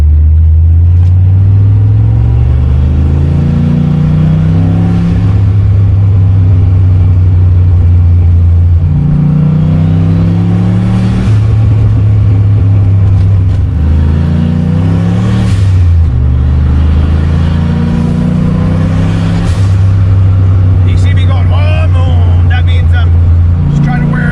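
A car with a stock Ford 302 V8 drives on a highway, a loud, close engine drone rising and falling with gear changes and revving, with a voice talking over it.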